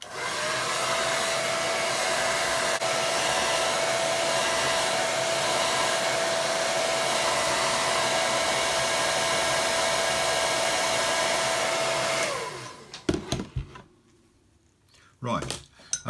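A hair dryer blowing a loud, steady whoosh close by as it dries a wet watercolour painting, running for about twelve seconds before switching off, followed by a few light clinks.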